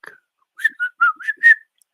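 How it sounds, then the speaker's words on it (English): A person whistles a short, playful melody of five or six quick notes, close and clear against silence, with a brief chirp at the start. "we whistle where we work"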